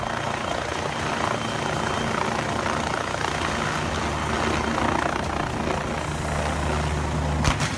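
A Civil Guard helicopter in Spain runs loudly and close by, its engine and rotor making a steady, dense roar with a low hum throughout and a sharp burst near the end.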